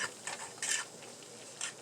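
Butter and flour stirred in a pan on the stove give a soft, faint sizzle broken by a few scraping strokes of the spoon, close and quiet with no talking.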